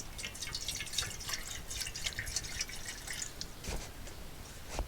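Small trickle of water poured for a cup of tea at an outdoor camp meal, faint patter and drips under steady background noise with no talk.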